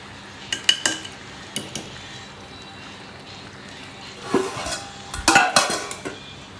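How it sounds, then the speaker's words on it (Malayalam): Breakfast dishes and cutlery clink and clatter in bursts as they are washed, with quieter gaps between, close by in a kitchen; no talking. "ബ്രേക്ക്ഫാസ്റ്റൊക്കെ ചെയ്ത പാത്രങ്ങളൊക്കെ ക്ലീനാക്കാൻ വേണ്ടിയാണ്. അപ്പോൾ ജസ്റ്റ് എല്ലാം വാഷ് ചെയ്യണം."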